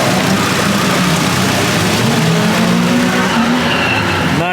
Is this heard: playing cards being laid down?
no